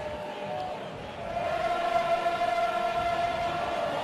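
Crowd cheering outdoors at a women's ultimate frisbee final in a tied match, a sustained roar that swells suddenly partway through and holds loud, heard from inside a booth under a commentator's talk.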